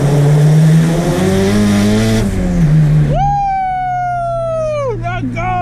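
A turbocharged Honda B18C car accelerating hard through its gears, engine note loud and close, rising and then dropping at each shift, with a bog on the third gear shift.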